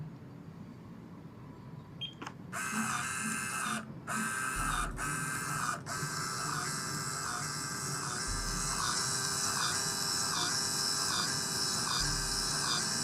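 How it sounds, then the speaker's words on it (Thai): A refrigerant analyzer's built-in printer whirs into action after a couple of clicks, feeding out a test result with a steady, tonal mechanical hum and periodic low thumps, close and moderately quiet. "เราปริ้นมัน"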